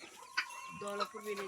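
Native country-breed hens cluck close by in short bursts, with a drawn-out rooster call near the end, all fairly quiet.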